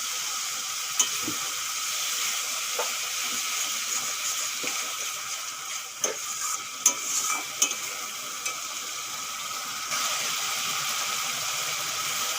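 Ground spice paste sautéing in a pan, a continuous hiss of frying broken by scattered clicks and scrapes of a stirring spoon.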